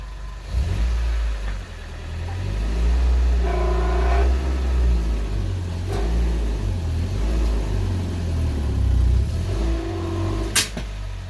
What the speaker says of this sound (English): let's get the car up on some ramps and get started.